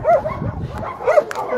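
Dogs at a large city shelter housing over 300 dogs give short, close yips and whimpering barks in quick bursts, two clusters within a brief moment.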